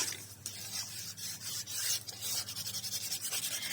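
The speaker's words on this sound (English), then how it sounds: "And now I can open it and burnish it down." Packaging tape is burnished down onto a journal page with continuous close rubbing, building into quicker, rhythmic strokes toward the end.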